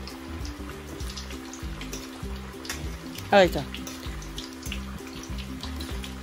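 Tap water runs briefly into a kitchen sink as hands are rinsed while pakoras are being fried, a short splashing burst over a steady background hiss, with a person speaking briefly.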